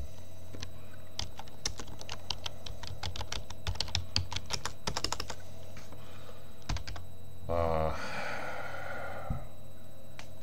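Irregular bursts of typing clatter on a computer keyboard, close and quiet, with rapid keystrokes clustering in the middle, then a breathy snort or sigh and a few last isolated taps.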